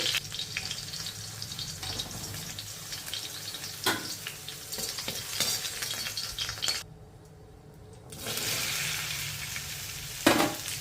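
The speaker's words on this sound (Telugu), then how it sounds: "ఆ మిగిలిన బెండకాయ ముక్కలను కూడా ఫ్రై చేసేసుకోవాలి" Okra pieces frying in hot oil give a steady, bright sizzle that drops away briefly in the middle and then returns, with a few clinks of a utensil against the pan.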